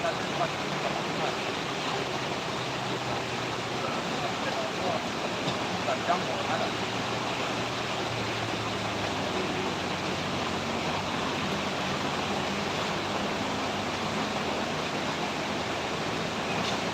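Heavy rain pours at Sitinjau Lauik, a steady, dense broadband roar of rainfall that holds evenly and loudly for the whole stretch with no breaks.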